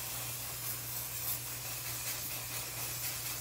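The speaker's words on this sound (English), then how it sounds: "This is the only one that you can just spray right on your head." Clear dry shampoo sprays from an aerosol can onto hair, a continuous close hiss that holds steady throughout with no talk.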